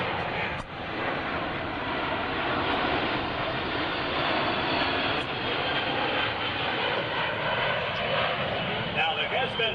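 C-17 Globemaster III military transport flying an air show demonstration, a broad steady jet roar filling the whole stretch at moderate distance, with an announcer talking over it.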